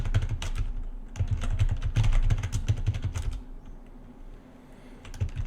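Rapid clicking keystrokes on a computer keyboard as a password is typed, close and fairly loud in dense bursts for about three seconds, then a few scattered taps.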